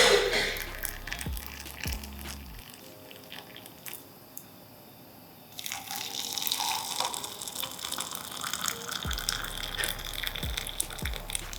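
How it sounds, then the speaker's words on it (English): An electric kettle boiling water for tea, a steady rushing, bubbling hiss with watery gurgles, close and fairly loud, broken by a few seconds of near silence midway before the boil resumes. "I'll insert some B-roll of the kettle boiling as well."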